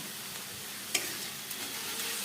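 Radish greens fry in a pan with a continuous close sizzle, broken by a sharp utensil scrape or tap near the middle and a couple of softer knocks as they are stirred.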